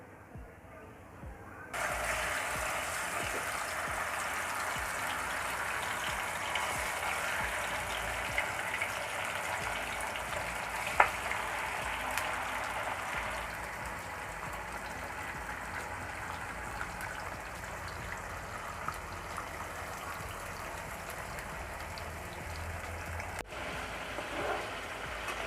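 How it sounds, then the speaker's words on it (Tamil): Kadamba squid fries in hot oil, giving a steady loud sizzle that begins abruptly and continues without pause, then eases slightly partway through. "இப்போ எண்ணெய் நல்லா சூடானதுக்கப்புறம் நம்ம அந்த மீனை வந்து இதில் போட்டு ஃப்ரை பண்ண ஆரம்பிச்சிடலாங்க"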